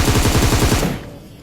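Automatic weapon fire in the mobile battle royale game PUBG Mobile: a rapid burst of about eight loud shots in quick succession, fading out after less than a second, with no talking.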